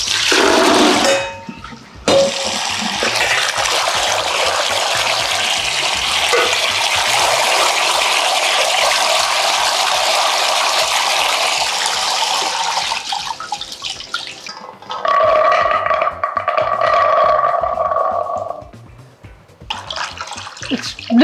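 About two litres of water pours steadily for chickpea soaking, a continuous rushing stream running loud and close for over ten seconds, pausing briefly, then resuming with a higher, ringing fill tone as the vessel fills.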